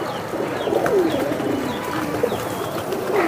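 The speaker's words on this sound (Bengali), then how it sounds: "পুরনো জাতের ভাই, বাবরা কবুতর" An old-breed Babra pigeon coos in soft, repeated low phrases, close by, with faint background noise and no talk.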